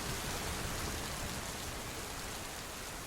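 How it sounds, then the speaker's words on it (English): Steady rain pours during a storm around a small wooden summer house, a dense, even hiss that is close and continuous with no voices. "he listened to the rain and felt the excitement of inspiration"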